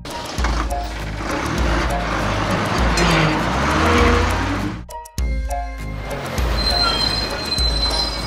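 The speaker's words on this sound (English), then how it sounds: "Tokyo bus." A cartoon Tokyo bus drives along a city street, giving a steady loud rumble of engine and road noise with high squealing tones, a sudden brief drop near the end before the busy traffic sound resumes.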